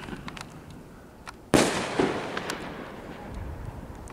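A sharp 50mm firework shell burst cracks out after a quiet stretch, followed by a loud sustained crackling and hiss that slowly fades, with faint pops in the background.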